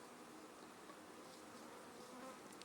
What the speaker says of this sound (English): I think there's a bee on my head.